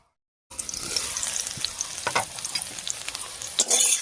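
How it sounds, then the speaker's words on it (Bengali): After a moment of silence, papaya pieces that have cooked until lightly fried sizzle loudly in a hot pan with little oil, punctuated by scraping stirs. "পেঁপেটা দেখুন বেশ কিছুক্ষণ রান্না হয়ে অনেকটা ভাজা ভাজা মতো হয়ে গেছে"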